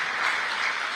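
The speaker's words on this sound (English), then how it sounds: "A round of applause, please, for Mr." An audience at a freight forwarders' convention in India applauds for the chairman before his opening address, a dense continuous wash of clapping that stays fairly loud and even throughout the short moment.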